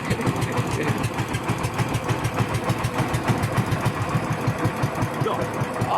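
Old pumpboat engine idles up close with a steady, rapid chugging pulse and a mechanical rattle, running continuously.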